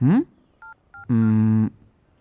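Two short electronic dial tones from a telephone as a number is redialed, framed by a busy-line signal tone before and a longer sustained tone after; clear and close.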